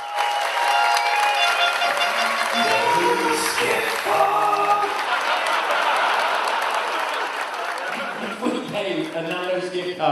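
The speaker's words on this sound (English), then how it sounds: "A round of applause for Bear, please" Audience applause at a closing ceremony, steady clapping mixed with cheers and light laughter, sustained and fairly loud, with voices in the crowd throughout.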